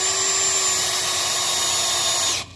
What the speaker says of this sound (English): this is going to take an angle grinder to get these screws off